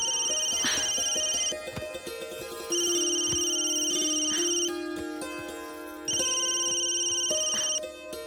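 A phone ringtone plays loudly and close by, a bright melodic tone repeating in regular bursts with short breaks between them.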